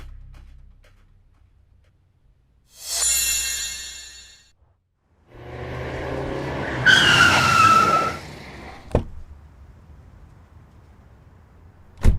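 A car brakes hard to a stop with a sharp, brief tire squeal, then a longer, louder screech of skidding tires, followed by a couple of solid thumps near the end.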